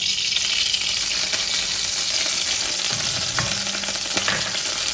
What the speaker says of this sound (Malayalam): ഇനി നമ്മൾ കുറച്ച് വെളിച്ചെണ്ണ ഒഴിക്കാം